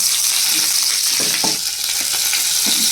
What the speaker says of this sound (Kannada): ಶುಂಠಿ ಕೂಡ ಹಾಕ್ಕೊಂಡಿದ್ದೀನಿ ಅದು ಚೆನ್ನಾಗಿ ಎಣ್ಣೆಲಿ ಫ್ರೈ ಮಾಡ್ಕೊಬೇಕು